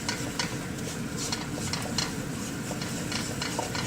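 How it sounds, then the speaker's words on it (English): Flour being stirred into hot oil in a pan for cream gravy: a steady low sizzle with repeated scraping strokes of a utensil and faint clinks against the pan. "I'm going to stir that into the oil"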